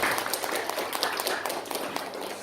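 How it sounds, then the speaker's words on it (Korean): Members of a church gathering applaud the Maria mission society, a brisk, dense burst of many hands clapping together at close range that continues evenly across the short stretch. "우리 마리아 선교회를 위해서 박수 한번 힘차게 쳐주세요"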